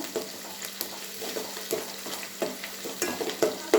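Onions and green chillies fry in oil for bagara rice, a soft continuous sizzle broken by repeated scraping and tapping of a spatula stirring the pan, close by and without voices.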